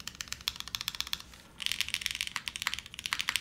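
Rapid typing on an O-ring mounted keyboard with Cherry stabilizers, a steady run of close, crisp keystroke clacks with a brief pause midway, the backspace adding a slightly scratchy edge.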